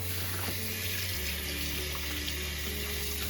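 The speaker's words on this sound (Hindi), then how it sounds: "अभी हम इस पे पानी डाल के छेने को अच्छा सा धो लेंगे ताकि इसमें जो खटास हुई सिरके की या लेमन की तो वो निकल जाए" Tap water runs steadily over freshly made chhena (cheese curds) being rinsed for rasmalai, a continuous close splashing hiss that stays even throughout, with no talking.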